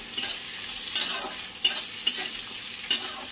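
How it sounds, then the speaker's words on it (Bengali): Chopped carrots are stirred in a hot pan, with several sharp scraping strokes at irregular intervals over a soft frying hiss, close by and with no voices. "ফার্স্টেই দিয়ে দেবো গাজর কুচিটা, গাজরটা একটু নেড়ে নিই।"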